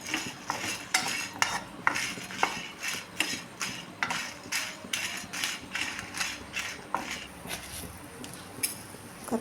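Whole cardamom and cloves fry in a pan on the way to a bondas sukka, with a spoon scraping and clinking against the metal in a steady, repeated stirring rhythm, close and fairly loud, with no talk.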